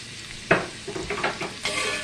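Chopped onions go into a hot, oiled skillet and sizzle, opening with a sharp clatter, then a crackling fry with brief scraping bursts as they are stirred.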